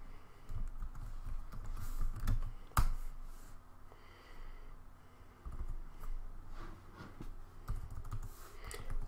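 Fingers type on a computer keyboard with quiet, uneven clicks and a few sharper key taps, close and soft, with no talking.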